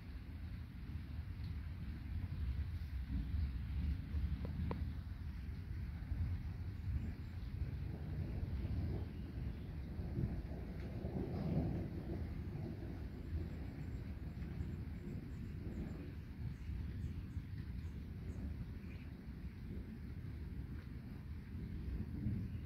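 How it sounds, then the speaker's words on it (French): A steady low roar of wind buffets the microphone, with deep rumbling underneath like distant thunder, continuous and unbroken throughout, during a violent thunderstorm with intense lightning and a microburst. "J'ai l'impression que l'orage est en train de se régénérer."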